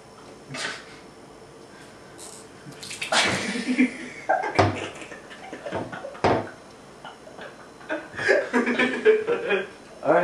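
Water pouring and splashing onto a person's face outdoors in irregular bursts, with laughter and voices mixed in among the splashes.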